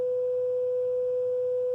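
Steady, pure 500 Hz sine tone holding perfectly even for nearly two seconds, with no beating or pulsing and no other sounds.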